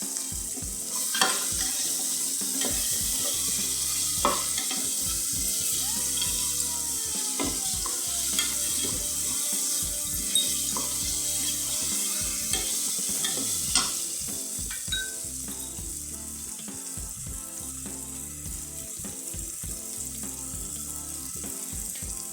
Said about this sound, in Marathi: आता याच्यामध्ये आपण फ्लावर आणि मटार टाकूया।